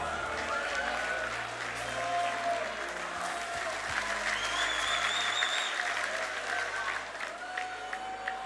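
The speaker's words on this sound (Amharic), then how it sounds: "እስቲ ለመንፈስ ቅዱስ በጣም የምትወዱት ብቻ አጨብጭቡ" A church youth conference crowd applauds together, a sustained wash of many hands clapping that stays fairly even across the whole stretch, with a few scattered cheers and voices mixed in.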